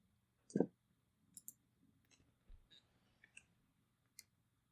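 Computer mouse clicks come in short, sharp, sparse taps, quiet and close, against near silence.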